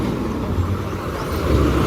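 A state transport bus pulls into a village stop in the Konkan region. It makes a loud, close diesel rumble with a low engine drone throughout, swelling slightly near the end.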